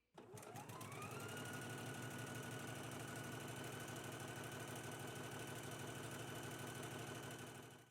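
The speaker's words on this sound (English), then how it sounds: "Let's go ahead and stitch our tie in place now." A sewing machine runs steadily, stitching the tie in place on a DVF x Vogue V2060 wrap dress; a continuous, close, loud mechanical whir with fast regular stitch rhythm after a brief start-up.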